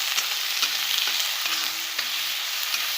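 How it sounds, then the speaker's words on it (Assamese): Onions, ginger, garlic and green chillies fry and sizzle in a pan for a pork curry, a steady hiss broken by regular scraping stir strokes, close and alone without talk. "পিঁয়াজখিনি ভজা হৈ গ'ল। এতিয়া মই আদা নহৰু আৰু কেঁচা জলকীয়াখিনি যোগ কৰি দিম।"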